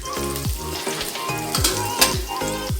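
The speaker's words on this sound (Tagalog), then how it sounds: "So, saute lang natin yung bawang at sibuyas. And ginger." Garlic, white onion and ginger sauté in a pan, sizzling loudly and close, with repeated rhythmic scraping strokes of a spatula every half second or so.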